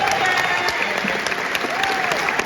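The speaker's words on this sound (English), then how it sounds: "round of applause" A Comic Con Q&A panel audience claps loudly and steadily for a cosplayer, a thick, continuous wash of applause with a faint whistle through it.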